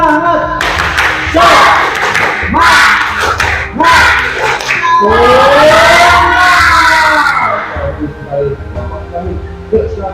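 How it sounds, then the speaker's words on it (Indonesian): A classroom of fifth-grade students claps and shouts together in a rhythmic spirit-clap chant, loud group claps punctuated by a rising collective cheer. "Tepuk semangat."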